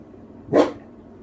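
A single dog bark, short and fairly loud against a quiet background, standing alone with no talk around it.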